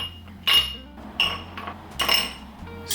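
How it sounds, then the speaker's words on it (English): Fresh ice is packed into a glass for a whiskey smash, with several separate sharp clinks and clatters of cubes landing against glass, close and distinct with short pauses between them. "Pack your glass with fresh ice right to the top."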